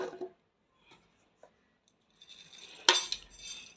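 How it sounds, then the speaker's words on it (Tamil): Pieces of bottle gourd dropped into a mixer jar, a few sparse soft taps followed by a brighter clatter and clink against the jar, close and quiet, with no talking. "மிக்ஸி ஜாரில் 1 கப்புக்கு சுரைக்காய் போடுறேன்"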